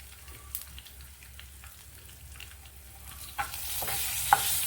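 Asafoetida dropped into hot oil with fenugreek seeds gives a quiet, close crackling sizzle with light stirring scrapes, swelling into a brighter, louder hiss and a couple of sharp pops near the end.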